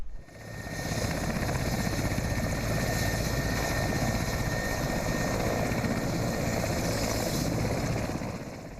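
A military helicopter carrying troops over flood-submerged roads in Chad roars steadily with a thick, pulsing rotor and engine drone that swells in and holds loud with no voices.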